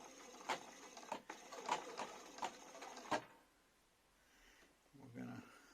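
A Bernina B590 embroidery machine stitches in a steady rhythm of sharp mechanical taps for about three seconds, fairly close, then stops; a faint low rumble follows near the end.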